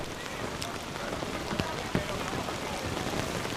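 Steady rain patters down at an outdoor canoe polo world championship, an even hiss with a few sharper drops and faint knocks underneath.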